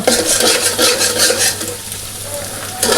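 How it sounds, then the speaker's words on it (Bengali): Scrambled egg sizzles in a hot wok while a utensil scrapes and stirs it in quick, repeated strokes, loud and close. "এভাবে অনবরত নাড়তে থাকবো ডিমটা যেন কড়াইয়ের সাথে লেগে না যায় এবং ডিমটা যেন ঝুরি ভাজা হয়"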